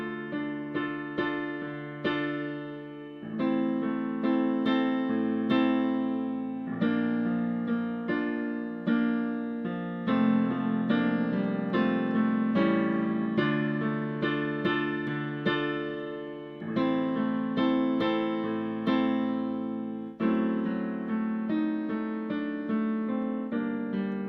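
Solo piano playing a song, close and clear with gentle chords and a flowing melody, each phrase struck and left to decay in a steady, unhurried rhythm.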